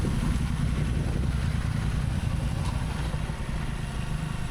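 A Royal Enfield GT or Interceptor motorcycle runs on a hill road, its engine a steady, loud low rumble heard up close, likely from the rider's own bike, with wind buffeting throughout.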